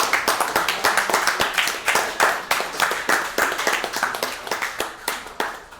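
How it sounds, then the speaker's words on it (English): A small crowd at a Super Smash Bros. Melee tournament ranking reveal in Wales claps for several seconds, giving loud, close, uneven hand claps with no talking over it. "Big round of applause for Tom for doing the art for this."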